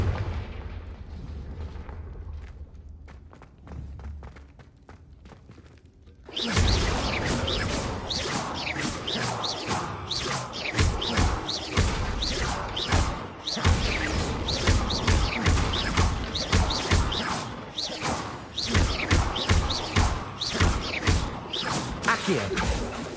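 Repeated Confringo blast spells fire in Hogwarts Legacy, a rapid series of loud explosive bursts and crackling impacts over dense combat noise after a quieter opening.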